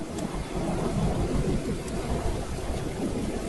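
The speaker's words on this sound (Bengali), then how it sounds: "কিছুক্ষণ পরে বৃষ্টির গতি একটু কমলো।" Steady heavy rain roars without a break, with a low rumble of thunder beneath it, dense and close throughout with no voices.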